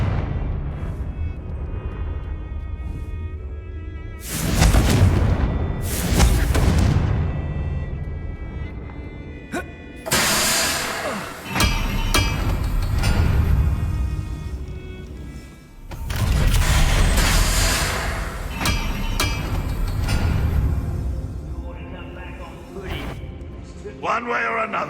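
Several loud Confringo blasting-spell explosions burst in Hogwarts Legacy combat, heavy booms with crackling debris and rumbling decay, mixed with speech and game sounds.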